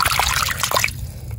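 A fossil shark tooth being rinsed in water: quick trickling and sloshing splashes for about a second, close and bright, then trailing off into a quiet outdoor hum.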